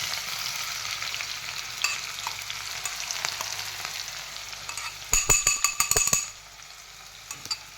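Chopped green chillies and onion fry in a pan with a continuous sizzle and scattered stirring scrapes, then a quick burst of clattering strokes just before the sound drops to a quieter hiss, with no talking.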